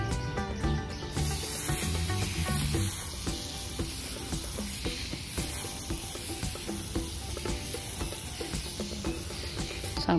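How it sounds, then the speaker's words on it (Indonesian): Water is poured into potted cactus and succulents until the planting medium is soaked and drains out the bottom, giving a steady fizzing, hissing soak over faint background music. "Sampai si airnya tuh keluar dari bawah lubang tanaman"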